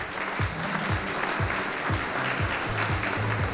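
An audience applauding the jury members at the Kraljica Zagreba 2024 event, a steady wash of crowd clapping with a rhythmic thumping beat of music underneath, continuous throughout.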